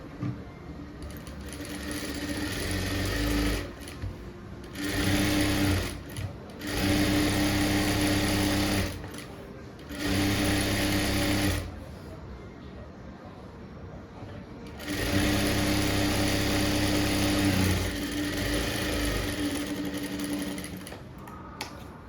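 A sewing machine runs in several bursts of stitching along the back piece of a blouse, each run a few seconds long with short pauses between, close and fairly loud with a steady whirring hum.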